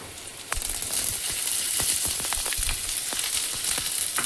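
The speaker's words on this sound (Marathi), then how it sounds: "आता आपण ह्यामध्ये टाकूया हा चिरून ठेवलेला कांदा." Chopped onion sizzles steadily in hot oil for methi bhaji, a dense continuous frying hiss with scattered pops and stirring clicks, close and fairly loud throughout after a quieter start.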